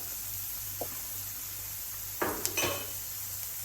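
Sliced onion and garlic sauté in a pan for bhindi masala, a soft steady sizzle under a faint background hum, broken by a few scraping strokes and clinks of a spoon stirring near the end.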